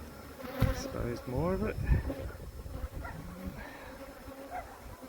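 Honeybees drone in a hive built inside a chimney, a dense close buzzing that runs throughout beneath a voice.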